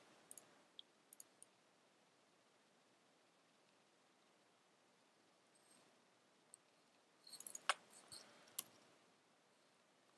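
Computer mouse clicks during work in SolidWorks CAD software, faint and sparse: a few isolated clicks early on, then a quick cluster of several clicks near the end, with no talking.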